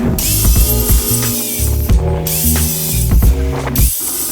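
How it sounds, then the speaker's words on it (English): A circular saw's blade depth adjustment clicks and ratchets close up, with loud repeated mechanical clacks and pawl-like snaps in an uneven rhythm across several seconds. "Set the blade to the same depth as plywood, so 3/4 of an inch."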